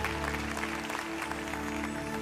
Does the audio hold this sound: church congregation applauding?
yes